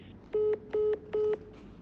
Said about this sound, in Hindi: हाँ फोन कट गया तुम्हारा